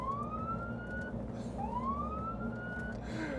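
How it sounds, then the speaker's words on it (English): A Tesla Cybertruck's second siren wails with rising sweeps, each climbing tone repeating in a slow cycle, loud and close over a low engine-like rumble. "there's a second siren down here too."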